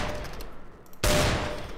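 A Desert Eagle pistol fires once in CS:GO, a single loud, sharp blast cutting in abruptly and ringing out with a long noisy tail after a stretch of quieter background.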